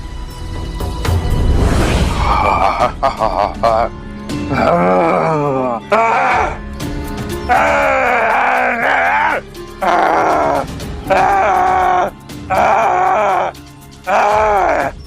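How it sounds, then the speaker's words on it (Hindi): A group of people shout, groan and wail loudly as if angry, a dense chorus of drawn-out cries and moans that breaks into separate bursts toward the end. "जोर से चीखिए, चिल्लाइए, कीजिए तो।"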